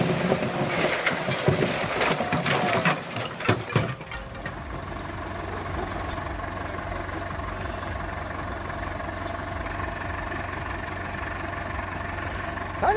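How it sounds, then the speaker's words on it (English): A tractor engine runs at a steady idle while it is tied to a tree stump to pull it out, a low constant drone after a few seconds of clattering knocks and rustle at the start. "Tying a tractor to a tree stump to pull it out."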